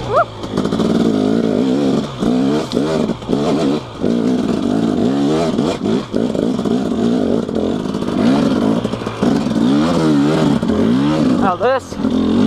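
A KTM 250SX two-stroke dirt bike struggles up a steep rocky mountainside, its engine revving hard and loud up close, pitch rising and falling in repeated bursts as the rider throttles, with occasional clattering over the rocks.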